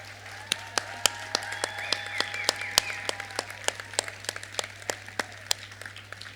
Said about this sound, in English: Give them a huge cheer and a round of applause.